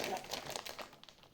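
Plastic bag crinkling and rustling as more than two kilos of raw shrimp are packed into it for freezing, a close, soft crackle of irregular bursts that thins out toward the end.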